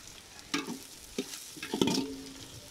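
Green chillies sizzle softly in hot oil in a home kitchen pan, with several distinct scraping stirs of a spoon against the metal over the faint frying hiss.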